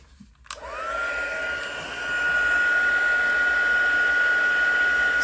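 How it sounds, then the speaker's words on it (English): A heat embossing tool switches on with a click and blows hot air in a steady, loud whooshing drone with a high whine that grows stronger after a couple of seconds and holds close by. "Bring in our heat tool."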